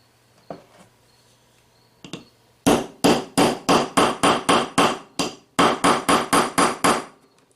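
A hammer strikes a setting tool to install a snap in leather, a couple of early taps followed by a rapid, steady run of loud, close blows with a brief pause midway.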